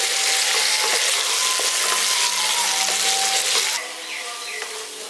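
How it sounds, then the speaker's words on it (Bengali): Potatoes and peas sautéing with spices in a pan, a loud continuous sizzle with occasional stirring scrapes that drops to a softer hiss near the end. "আলুটা আর মটরশুঁটিটা দিয়ে দেওয়ার পর খানিকক্ষণ একটু কষিয়ে নিয়েছি"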